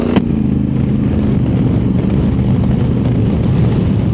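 A 2024 Honda Africa Twin DCT motorcycle cruising on the Thruway near Buffalo, with a steady, loud engine drone mixed with constant wind and road roar throughout, unbroken and close.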